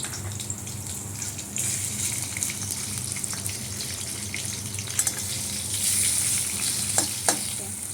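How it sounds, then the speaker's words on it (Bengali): Prawns sizzle in hot oil in a wok with dried red chillies, nigella seeds and green chillies, a steady crackling hiss with occasional sharp pops and utensil clinks. "কড়াইতে ফোড়ন দিয়েছি শুকনো লঙ্কা, কালো জিরা, কাঁচা লঙ্কা। চিংড়ি মাছগুলো ছেড়ে দিলাম।"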